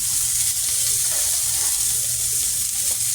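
Seasoned burger patties sear in a hot pan with a loud, continuous hiss and crackle that fills the whole stretch, alone with no voices.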